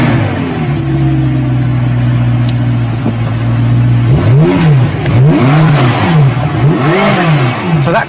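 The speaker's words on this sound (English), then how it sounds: "I made that car sound like this" McLaren MP4-12C engine with a tuned exhaust, idling steadily before it revs up and down in repeated rising and falling sweeps, loud and close with no talking.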